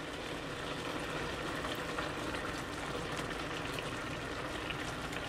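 Tomato frying in half a cup of vegetable oil gives a soft, continuous sizzle and bubbling hiss, close and fairly quiet, with no voices.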